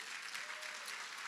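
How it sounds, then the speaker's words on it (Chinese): A church congregation claps in praise during a sermon, giving a brief, dense, even burst of many hands applauding together throughout. "可以拍掌将荣耀归给神吗"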